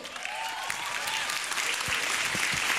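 Live audience at a stand-up comedy grand final breaking into sustained, dense applause that fills the room steadily from start to finish, with no voices over it.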